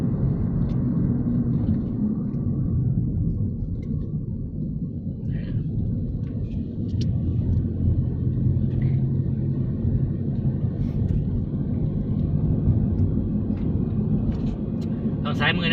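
A car drives along a country road past rice fields in Thailand, a steady low engine and road rumble heard from inside while someone talks over it throughout.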